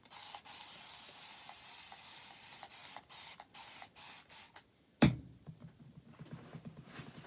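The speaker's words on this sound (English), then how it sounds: "I'm going to spray it with water just a little bit to get it clean" Spray bottle misting water onto a doormat, a series of soft hissing spritzes at a steady rhythm, close and quiet, followed by a louder knock and handling noise.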